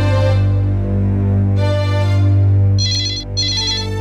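Telephone ringing loudly in a Tamil television serial, an electronic tonal ringtone repeating in bursts with a brief pause, heard alone without speech.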